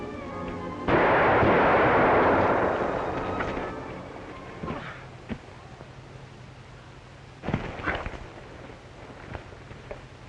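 A gunshot in a 1945 western film bursts out loud and close, then fades into a rumbling tail, followed by a couple of sharper, quieter shots and some rustling.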